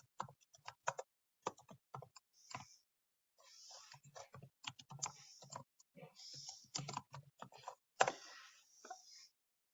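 Fingers type on a computer keyboard while entering data into an Excel spreadsheet, producing quiet, close, irregular bursts of key clicks with short pauses between runs.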